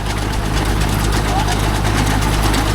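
A Kubota MU4501 tractor engine runs close by with a loud, steady, low droning rumble that holds unchanged throughout.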